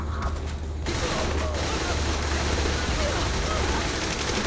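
Rapid gunfire bursts from a shooting fight in the game Saints Row The Third, loud and steady over a constant low engine-like rumble for the whole stretch.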